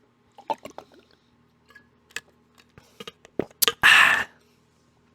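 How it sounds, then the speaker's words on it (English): Water is poured and handled at a desk, with scattered small clicks and taps of a bottle or glass followed by a short, close burst of liquid pouring, and no talking. "let me get some water here, guys."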